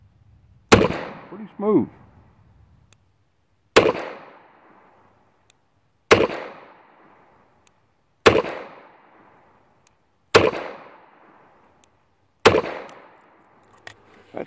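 Six sharp gunshots from a Taurus Model 82 .38 Special revolver crack out at steady intervals of about two seconds, each followed by a short decaying echo outdoors, with someone briefly speaking after the first shot.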